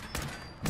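Gunfire from the Fallout video game: two short broadband bursts, a sharp one near the start and another near the end, loud and close over a steady game background hum.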